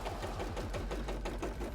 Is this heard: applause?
no